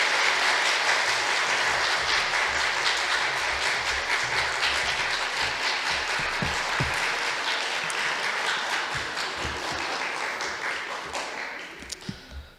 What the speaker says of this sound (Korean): 나오실 때 힘찬 환영과 축복과 격려의 박수 해주시면 좋겠습니다.